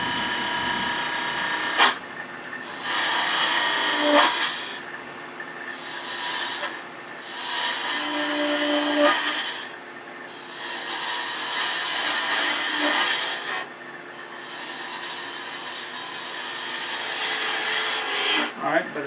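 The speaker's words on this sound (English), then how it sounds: "go back to our 1/2-inch spindle gouge" Wood turning on a lathe with a 1/2-inch spindle gouge shaping a garlic keeper box, continuous scraping and rasping cuts in long passes separated by brief pauses over a steady motor hum, close and clear.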